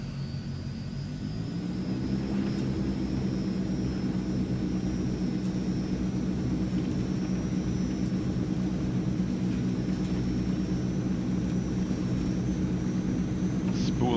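The twin engines of a Transall C160 cargo plane in Microsoft Flight Simulator spool up, a loud, steady droning roar that rises in pitch over the first two seconds and then holds a sustained whine throughout.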